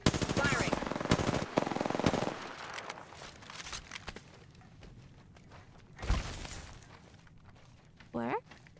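Rapid automatic gunfire bursts in the video game Apex Legends, loud dense rattling for the first two seconds, then a single later burst and scattered in-game effects, with a player's voice talking over it.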